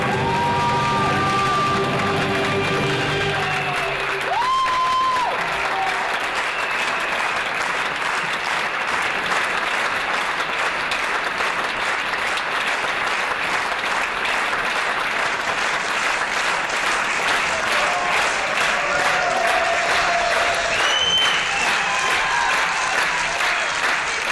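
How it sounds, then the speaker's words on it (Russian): A theatre audience at a premiere in Nizhny Novgorod breaks into a long, dense storm of applause with scattered cheers, rising right after a closing musical chord and holding steady and loud throughout. "Последний музыкальный аккорд продолжил нескончаемый шквал аплодисментов."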